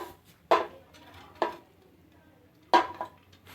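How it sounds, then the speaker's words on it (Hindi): Raw carrots are dropped into a pressure cooker in a home kitchen, giving three distinct hard clattering knocks against the metal pot at irregular intervals, near and clear over a quiet background with no talk. "सबसे पहले प्रेशर कुकर में हम गाजरें डाल देंगे।"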